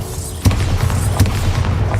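Two sharp magical blasts from the Bombarda spell in Hogwarts Legacy punch out about a second apart over a rumbling game backdrop, each a loud, brief boom.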